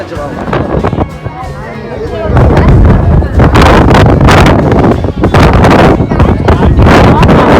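Strong seaside wind at Kanyakumari batters the microphone in loud, gusting roars that grow heavier after a calmer start, with voices partly audible beneath.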